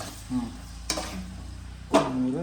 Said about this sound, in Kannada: ಆ ಬಾಣಲಿ ಒಳಗೆ ಮೊಟ್ಟೆ ಹಾಕಬೇಕು. ಆಮೇಲೆ ತಿರುಗಿಸ್ಬೇಕು.